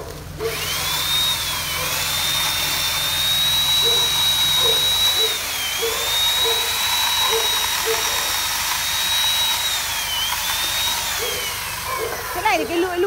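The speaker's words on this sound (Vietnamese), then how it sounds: "Cái này thì cái lưỡi cưa này có cùn không chú Chí?" A chainsaw cuts branches in an old longan orchard, its engine holding a steady high whine for several seconds with slight pitch dips as the blade bites, and continuous background noise around it.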